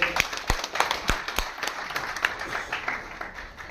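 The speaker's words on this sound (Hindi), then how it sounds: "एक बार जोरदार तालियों से सतीश जी का अभिनंदन।" Audience in a hall at a public speech event breaks into loud, dense applause, many hands clapping together with sharp individual claps standing out, sustained throughout without a pause.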